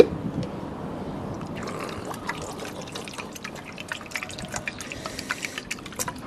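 Water pours and splashes into a pot, starting softly and growing into a steady stream with bubbly drips and splatters, heard up close.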